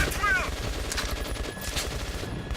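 Gunfire in the post-apocalyptic shooter Metro 2033 Redux: a busy exchange of scattered shots and bursts at moderate distance, with voices shouting over the fighting.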